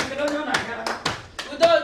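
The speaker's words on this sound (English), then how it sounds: "Clap for her." A small group claps for a young girl at a children's Igbo language summer camp class, with a few sharp, slightly ragged claps spaced apart over nearly two seconds, close by and fairly loud, with voices around them.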